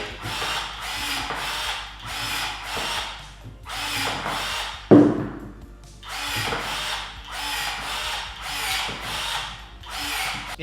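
A Parkside PAAS 20 Li B1 cordless pruning shear snips thin, soft green branches in a quick series of short motor whirs with a sharp snap in the middle, close to the microphone.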